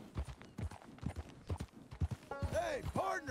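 Horse hooves clip-clop at a steady trot in the video game Red Dead Redemption 2, fairly faint and rhythmic, with someone speaking over them and a brief neigh near the end.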